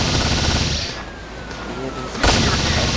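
Weapon fire in the Rope Hero mobile game, a loud dense continuous blast of game gunfire and explosive noise filling the whole moment, with a sharp burst near the end.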